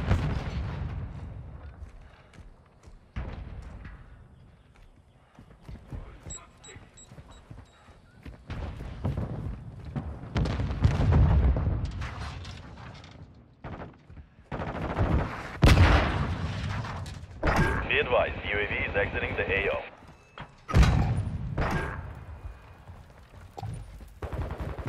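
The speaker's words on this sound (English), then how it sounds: "A stun grenade!" A stun grenade going off during a Call of Duty: Modern Warfare II multiplayer match, amid repeated loud booming blasts and gunfire bursts over a dense, busy battle soundscape.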